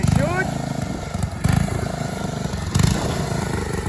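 A Howard engine with a sticky governor runs steadily, its low clattering chug holding a loud, uneven rhythm with surges in speed, while voices talk over it.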